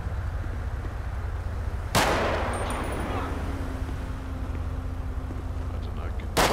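Gunshots in a Miami police roleplay video game: two sharp, loud cracks several seconds apart over a low steady background hum, with no talk.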